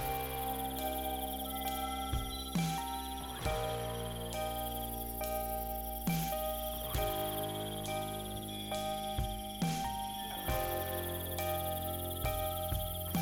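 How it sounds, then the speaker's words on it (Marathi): Crickets chirp steadily at night near Bari village at the foot of Kalsubai peak, a dense continuous insect trill with soft repeating pulses and no voices. "काजवे आणि रातकिड्यांच्या आवाजात रात्र सरली"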